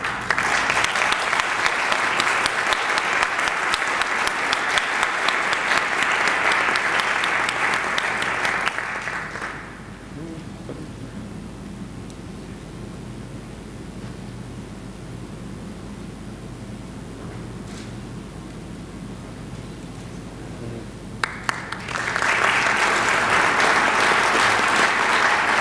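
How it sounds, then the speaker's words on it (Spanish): A conference audience bursts into sustained applause for a speaker invited to the front. It fades into a long quiet stretch of murmuring room noise, then another loud round of clapping erupts near the end. "Un aplauso para él."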